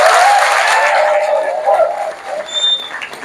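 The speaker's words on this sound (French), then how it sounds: "Applaudissez pour vous, merci beaucoup." An audience in a hall, likely an assembly for a housing project with Captain Ibrahim Traoré, applauding together, a loud dense wash of clapping and crowd noise that gradually thins and fades.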